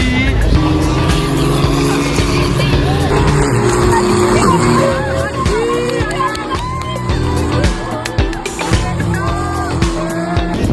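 Race cars lapping during free practice at the Le Mans circuit make loud, layered engine roars that swell and fade as they pass, with crowd noise and bystander chatter mixed in throughout.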